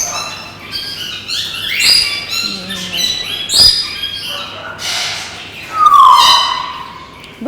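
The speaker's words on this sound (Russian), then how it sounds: "В этой клетке такой смешанный состав средних попугаев." A mixed group of medium-sized parrots, including crested cockatiels, squawk and whistle in a park aviary at Peterhof, with loud, harsh calls rising over steady background noise.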